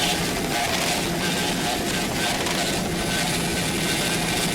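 A racing offshore powerboat's engines roar steadily and loudly at full throttle during a 1999 Key West world championship race, a dense continuous drone with no voices.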